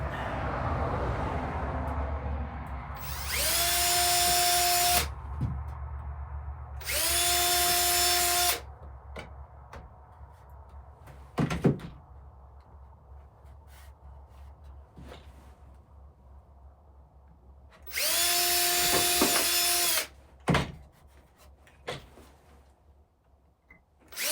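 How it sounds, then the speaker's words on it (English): A power drill whirs in three separate bursts of a few seconds each, boring into wood, with knocks and handling sounds in between. "We'll drill some holes"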